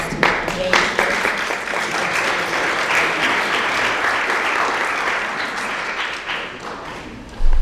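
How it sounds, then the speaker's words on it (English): An audience at an equity summit breaks into sustained applause, a thick wash of many hands clapping at steady volume throughout, ending with a brief knock at the close. "Please join me in giving a round of applause to Dr. James"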